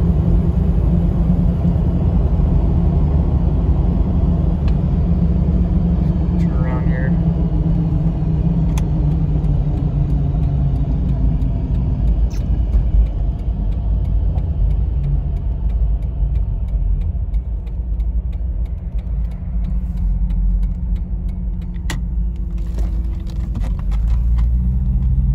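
A lifted 1999 Jeep Cherokee XJ cruises along with a steady, loud low-pitched engine and road rumble filling the cabin throughout, with no talking over it.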